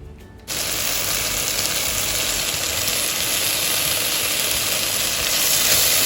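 Tomatoes tipped into a pan of sautéing chicken curry set off a sudden loud, steady sizzle that holds evenly for several seconds without talk.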